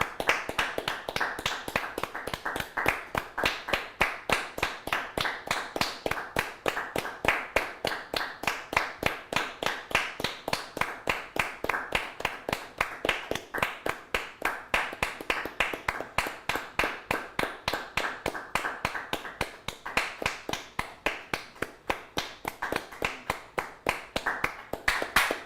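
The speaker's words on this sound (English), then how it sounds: "the Liverpool fans were clapping just as enthusiastically" Liverpool fans at an Everton vs Liverpool football match clap steadily in unison as a tribute, a sustained crowd-wide rhythm of sharp, even claps that carries on throughout.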